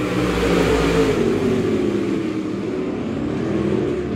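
A race car engine roars and revs at Monett Raceway during a Mystery Night event, a loud continuous snarl with other cars droning alongside, no voices heard.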